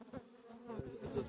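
Honeybees buzzing close around a camera near an open hive, a faint, wavering drone with uneven swells as individual bees dart in and out.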